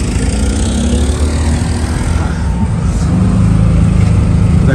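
A tuk-tuk auto rickshaw engine near Gregory Lake in Nuwara Eliya, Sri Lanka, runs with a loud, continuous buzzing drone from close by, steady throughout with no clear speech.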